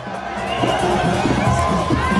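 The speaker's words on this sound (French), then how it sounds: "sous les acclamations des Marocains sagement rangés derrière les barrières" A crowd of Moroccans standing behind barriers in Rabat cheers and shouts for an arriving motorcade, a loud and continuous roar with some voices standing out.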